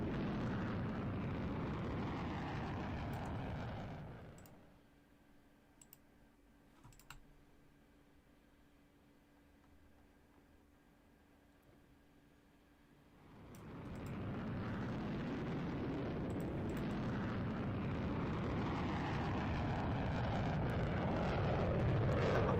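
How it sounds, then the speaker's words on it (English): Eurofighter Typhoon jet in a Roblox game roaring on afterburner during a vertical climb, a loud broadband rush that drops to near silence in the middle and then swells back to full strength. "watch as Core applies the afterburner and pulls on the stick, feeling 7 times Earth's gravity as it prepares for the vertical climb"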